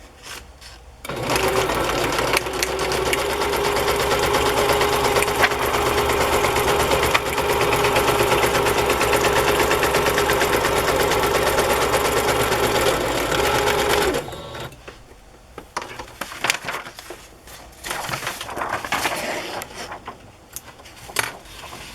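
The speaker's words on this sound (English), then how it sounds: "I'll have the smaller paper to try to fit underneath my sewing machine" A sewing machine stitches sheets of paper together to make a larger page, running steadily at close range for about thirteen seconds before stopping, followed by softer handling noises.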